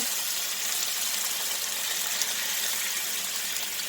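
Lamb broth poured into a pan, a continuous soft splashing pour with an even, steady flow for a few seconds, heard alone.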